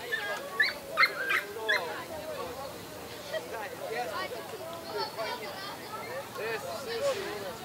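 Several dogs at a children's dog show outdoors give a few short barks and yips early on, fairly faint, under steady crowd chatter and talking.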